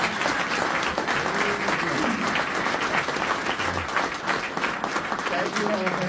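Steady, dense applause from a large audience at a public speaking event about stroke recovery, continuous and fairly loud throughout with a voice faintly audible over it.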